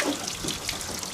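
Water sprays in a brief, soft, hissing wash as a child washes a car, with a fairly close, steady splash throughout.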